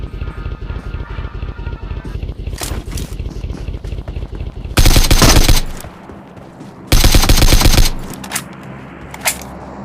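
Video game gunfire crackles in rapid automatic bursts, with two long, loud volleys of close fire and a few lighter shots in between, over a continuous game soundscape.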